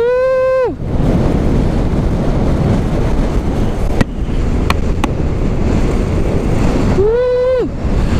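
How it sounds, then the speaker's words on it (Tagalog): Strong coastal wind on a road trip through Ilocos Norte roars into the microphone as a constant heavy rumble, while people whoop loudly at the start and again near the end. "Grabe lakas ang hangin ah."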